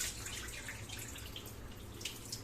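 Dirty rinse water drains off washed grain in a soft continuous trickle and pour of liquid, faint and close, with a few small splashes and no voices.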